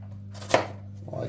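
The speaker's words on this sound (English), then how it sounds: "first thing I'm going to do is chop up our onions" A knife chops roughly through onions on a board: one crisp, distinct chop stands out, followed by a softer cut, close and clear with no talking.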